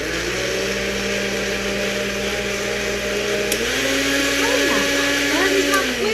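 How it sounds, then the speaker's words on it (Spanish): A kitchen blender runs steadily throughout, a loud continuous motor whir with shifting pitch toward the end, heard alone with no talk. "Y es la licuadora."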